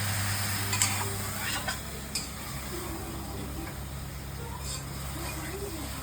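Mushrooms frying in a pan for pulao while being stirred, a low steady sizzle broken by a few sharp spoon taps and scrapes against the pan.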